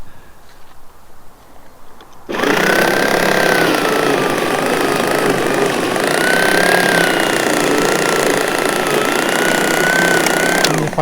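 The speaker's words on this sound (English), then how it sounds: "So I'm now going to continue mowing over my lawn." A lawn mower starts up after a quiet moment and then runs loud and steady while cutting a spring lawn, its engine drone continuous and close for the rest of the clip.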